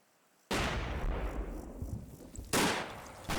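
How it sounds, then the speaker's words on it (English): Two loud 2-inch mortar blasts from the Combat Mission wartime strategy game, each a sharp boom with a decaying tail, spaced about two seconds apart, with another burst starting at the end. "And C Company fire their first shot with a 2-inch mortar."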